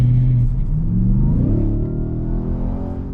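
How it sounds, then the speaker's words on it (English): A Ford F-150 Raptor R pickup's 700 hp engine revs close by, its deep exhaust note climbing in pitch and then holding a steady rumble. "of course the exhaust gets louder"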